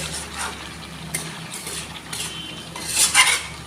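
Local chicken meat frying in its own oil, a spoon scraping and clinking against the pot over a low sizzle, close and moderately quiet, with a brighter metallic clatter near the end.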